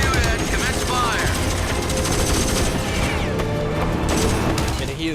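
Video-game battle gunfire, dense automatic bursts and scattered shots crackling continuously and loudly amid chaotic combat noise, with voices talking over the fighting.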